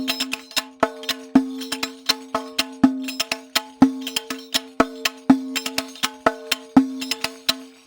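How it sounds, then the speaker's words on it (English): A riq frame drum plays a quick, steady rhythmic pattern in groups of six, sharp tak strokes and ringing strokes with jingling accents, alone and close. "So now we'll add some tack strokes into our groups of 6 and it will sound like this."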